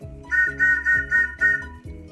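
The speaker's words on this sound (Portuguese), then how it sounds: "Esse apito aqui, olha, é o apito de bonde." An antique tram whistle blown in five quick, shrill, pulsing toots close up, each a bright tone, followed by a sixth fainter one.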